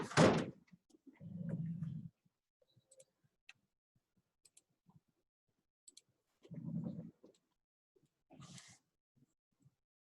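A door is pushed shut twice with a soft thunk and latch click each time, several seconds apart in an otherwise quiet room, with a sharp knock or click at the start and small ticks between.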